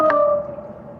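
A phone sounds its low-battery alert at 5% charge on a night fishing trip by a river: a single close, clear electronic beep whose tone lingers and fades over about a second.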